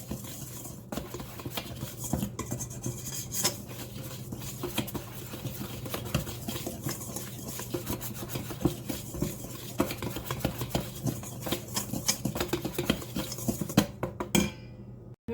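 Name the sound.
whisking dry ingredients (flour, baking powder, salt) in a bowl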